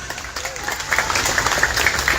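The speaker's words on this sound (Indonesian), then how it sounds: "Tepuk tangan." A crowd claps at a gathering welcoming a released politician outside a prison, a dense patter of applause that swells and grows louder partway through, with voices mixed in.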